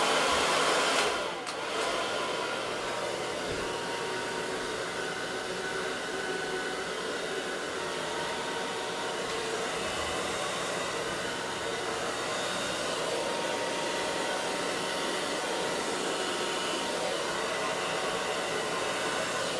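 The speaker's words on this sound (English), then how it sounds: "I'm going to move this epoxy just a little bit more with my hair dryer" A hair dryer blows continuously and loudly at close range over wet epoxy, a steady rushing hiss throughout with a brief dip near the start.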